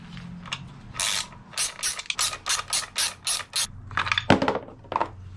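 A hand ratchet with a 1/2-inch socket works loose a Harley belt tensioner in a quick series of sharp, close clicking strokes, about a dozen bursts with short pauses, ending in a metallic clunk.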